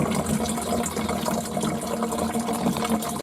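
Water pouring steadily into a container in a village setting, a continuous rushing, splashing fill with no talking, ending abruptly.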